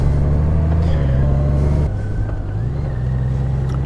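A 2018-or-later Honda Goldwing rolls into a bank parking lot at low speed, its engine a close, deep rumble that drops in pitch as it slows, with faint wind noise and no talking.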